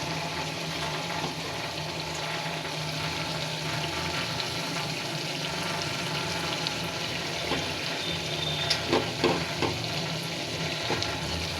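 Taki fish frying in a pan as coriander leaves and green chillies go in, a steady close sizzle throughout with a few soft stirring knocks near the end, no talking.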